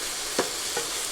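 Ground hamburger with onions and garlic frying in a pan, a steady soft sizzle with two brief stirring scrapes, close and fairly quiet, no voices.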